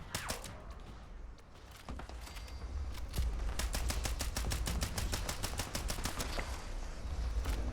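Rapid gunfire in a video game, sustained automatic bursts with evenly spaced sharp shots that grow denser and louder through the stretch, with no talk over them.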